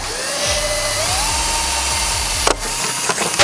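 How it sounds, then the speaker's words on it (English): A power drill whines loudly up close as it bores into a wooden skate park ramp, its pitch rising as it spins up, followed by a few sharp knocks and clatters. "we're gonna drill this thing into there"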